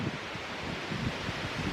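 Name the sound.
wind blowing through leaves in a park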